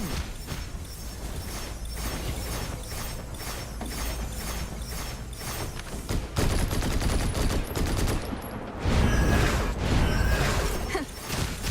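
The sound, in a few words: character's rifle firing in video game Snowbreak: Containment Zone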